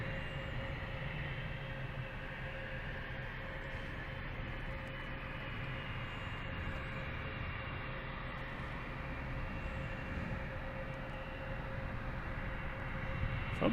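An Etihad airliner taxiing at Boston Logan Airport, heard as a steady, continuous jet engine roar with a sustained whine, loud and unbroken for the whole stretch.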